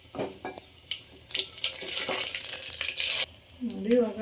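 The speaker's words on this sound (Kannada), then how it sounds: "ಇವಾಗ ಬೆಳ್ಳುಳ್ಳಿ ಹಾಕ್ತೀನಿ, ಕರಿಬೇವಿನ ಸೊಪ್ಪು ಹಾಕ್ತೀನಿ ನೋಡಿ." Garlic and curry leaves drop into hot tempering oil with mustard and cumin seeds, crackling and sizzling in a loud hissing burst that cuts off abruptly, with a voice heard briefly at the end.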